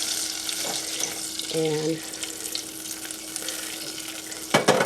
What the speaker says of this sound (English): you see it is beginning to boil a little bit. You see all those bubbles is the liquid in the butter beginning to come out